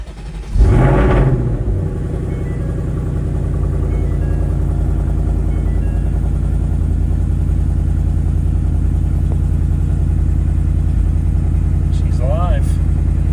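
A 2024 Ford Mustang GT with the 5.0 V8 and six-speed manual fires up with a loud burst of revs, then drops into a steady, deep rumbling idle that carries on to the end.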